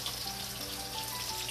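Taro leaves hit a pan of frying spice mix, giving a steady, dense sizzling hiss with no breaks over a brief moment.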